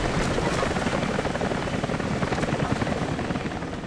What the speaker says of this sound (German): Ich hoffe nicht, dass wir hier gegen einen Hubschrauber kämpfen müssen.